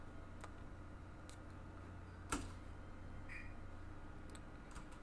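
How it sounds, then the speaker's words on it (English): A turn clock ticks softly in the video game MTG Arena, giving faint, sparse ticks over a low steady hum, with one sharper click partway through. "Opponent's clock is ticking."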